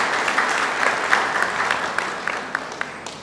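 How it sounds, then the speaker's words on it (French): Steady applause from an audience at a hospital's annual review event, dense overlapping clapping with sharper individual claps standing out, fading slightly toward the end, with no talking. "applaudissons encore pour l'hôpital à Kintini"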